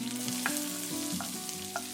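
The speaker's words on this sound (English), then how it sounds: "I'm going to cook the onions for 1 minute" Minced onion sizzles in hot oil in a wok, a soft, continuous frying crackle beneath steady tonal sounds, with a few brief brighter bursts spaced through it.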